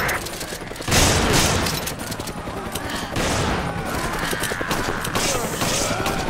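Gunfire in Resident Evil 5 rings out in bursts of rapid, loud shots with booming impacts, layered over in-game background noise and occasional voice.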